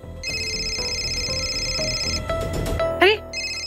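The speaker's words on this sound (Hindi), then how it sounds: "अरे ये देखिए, नूर का फोन आ गया, मैं स्पीकर पे लगाती हूँ।" A telephone rings with an incoming call in a domestic television drama scene, a steady repeating electronic ring tone heard under background sound and music, broken by a brief louder burst.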